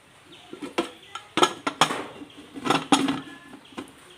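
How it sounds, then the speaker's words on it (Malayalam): A metal pressure cooker lid, without its rubber gasket, is fitted and shut over tuna biryani, giving a string of close metallic clanks, clinks and scrapes in irregular bursts. "കുക്കറിൻ്റെ വാഷറൊന്നും ഇടാതെ ഒന്ന് അടച്ചു വയ്ക്കുക"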